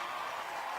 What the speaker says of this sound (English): The crowd loving that.